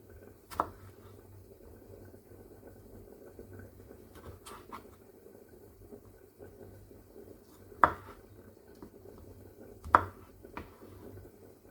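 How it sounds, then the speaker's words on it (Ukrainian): A knife chopping peeled tomatoes into squares on a cutting board: a few sparse, sharp taps spaced seconds apart over a faint background hum, recorded close. "Очищені від шкірки помідори нарізаємо ну, теж на квадратики."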